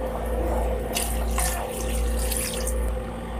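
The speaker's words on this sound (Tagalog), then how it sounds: "Magdagdag lang po tayo ng konting tubig." Water runs steadily from a tap, splashing into a cooking pot of pork ribs with a continuous rushing hiss and a low hum underneath.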